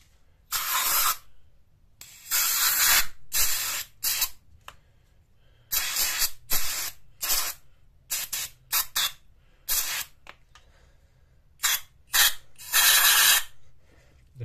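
Carbon cleaner sprays onto car engine tappets in repeated hissing bursts of varying length, close and fairly loud, separated by short quiet gaps.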